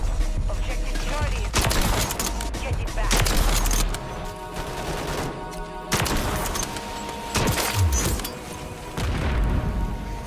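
Kar98 bolt-action rifle shots in the video game Modern Warfare III, several sharp loud bangs in bursts over a dense, busy background of battle noise, with a voice talking now and then.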